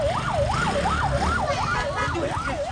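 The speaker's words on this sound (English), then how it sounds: "Here is the motorcycle ambulance" A motorcycle ambulance in Douala, Cameroon sounds its siren: a loud, rapid up-and-down wail cycling about twice a second, steady over a low engine and traffic rumble.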